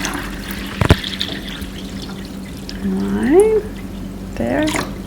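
Water is poured into the reservoir of an Oraimo ice maker to top it up to the max line. A close, brief pour builds to a rising gurgle, with a small knock earlier on.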